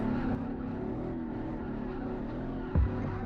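A drift car's engine roars steadily under throttle along a track straight, a loud, sustained drone that holds level before a brief surge near the end.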